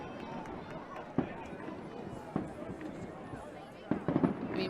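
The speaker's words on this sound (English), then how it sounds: "Here we got some fireworks going off in the background." Fireworks pop in the distance over a South Brooklyn, New York City ultimate frisbee game, with sharp scattered bangs near 1.2, 2.4 and around 4 seconds, rising under ongoing commentary talk and outdoor background noise.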